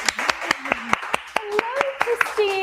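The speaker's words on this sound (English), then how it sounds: "Let's all give a round of applause to Christine Martinez." Audience applause for author Christine Martinez, heard as a short run of sharp, sparse claps from a few people close by, with a voice speaking underneath the clapping.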